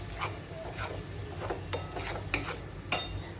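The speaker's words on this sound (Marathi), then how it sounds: "आणि हे असं छान असं ढवळून घ्यायचं." Ghati masala being stirred in a pan for a Nashik-style bitter gourd curry, a quiet run of soft scraping strokes in a steady rhythm, each one a brief rub of spoon against metal, with no talk.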